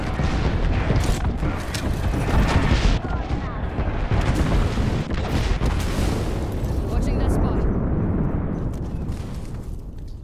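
Video-game gunfire crackles almost nonstop in dense bursts and heavy booms, loud and close, with voices calling out over the shooting.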